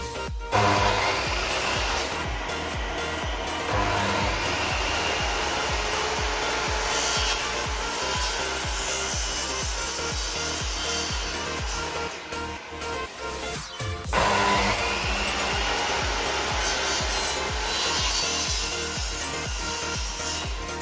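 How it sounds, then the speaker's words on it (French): A circular saw cuts through reclaimed pallet planks in a loud, steady whine of blade in wood, running continuously for about twenty seconds, with a brief dip before the cut resumes at full strength. "on vient de découper nos 5 morceaux de planche de palette"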